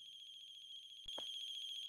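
In The Closing Shift, a game set in a Japanese café at closing time, a phone keeps ringing with a steady pulsing electronic tone. A brief click and thump cut in partway through, and no one talks.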